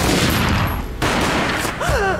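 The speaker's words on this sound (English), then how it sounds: "Gunshot boomed and she fell down in slow motion." Gunfire from the video game Max Payne: a loud burst of dense, overlapping shots in rapid succession, broken by a brief gap and then resuming, with a faint tonal whine and swooping effects near the end.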